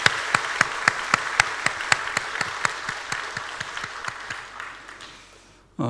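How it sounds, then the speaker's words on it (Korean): A church audience applauds together, with a steady burst of many hands clapping and sharp individual claps standing out, sustained for several seconds and then fading away. "감사합니다. 박수하겠습니다."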